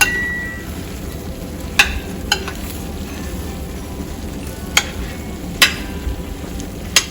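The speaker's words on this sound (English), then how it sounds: "I like to stir my potatoes" Potatoes au gratin being stirred in a baking dish after coming out of the oven, with soft bubbling sizzle and several sharp clinks of a utensil against the dish, close and fairly loud.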